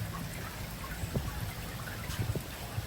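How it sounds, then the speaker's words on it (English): Rain falling outdoors, a soft, dense patter with scattered faint drips and taps, steady and fairly quiet with no voices. "I don't know if you can pick up the rain noise."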